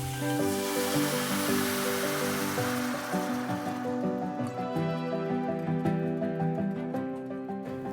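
Veggie stock poured into a pot of sizzling doubanjiang for coconut chili vegetarian ramen makes a loud, steady rush of liquid and bubbling hiss that lasts the whole time, easing slightly toward the end, close up with no talking.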